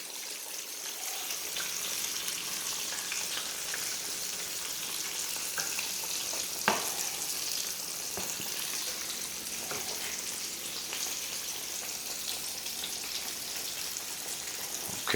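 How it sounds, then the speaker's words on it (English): Sea mullet frying in fresh grease, a steady dense sizzle and crackle up close, with occasional sharper pops rising out of the continuous hiss. "I know this is kind of boring sitting here just watching grease sizzle"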